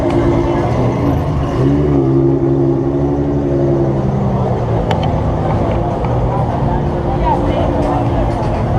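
Chevrolet Corvette E-Ray hybrid sports car at an outdoor Corvette owners' gathering, a loud low engine rumble rolling past close by, steady and throbbing, with a busy outdoor background.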